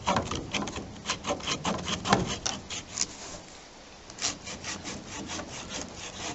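A saw rasps back and forth through a chaga mushroom hearth board in rhythmic strokes, each pass a gritty, woody scrape, with a brief pause midway before the cutting resumes.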